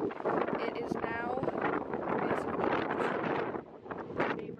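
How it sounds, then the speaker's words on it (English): Strong gusts roar steadily into the microphone with a low rumbling buffet, while a person talks underneath the wind noise. "I know it's super windy."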